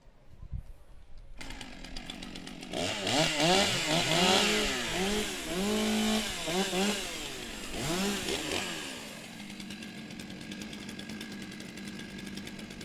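Several chainsaws warming up before a women's and rookie timbersports race in New Zealand, revving in overlapping rising and falling bursts that are loud and close, then settling back to a lower idle drone.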